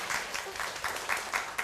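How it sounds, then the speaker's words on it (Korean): A lecture audience at a talk on buying a home gives a brief round of applause, soft clustered clapping that swells in a few uneven bursts, fairly quiet and distant. "박수 한번 더."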